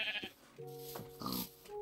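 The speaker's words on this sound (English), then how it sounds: "Oh, sheep. Sheeps!" Blocky Minecraft sheep bleat close by in a quick run of short, wavering baas with small pauses between them, heard alone without talk.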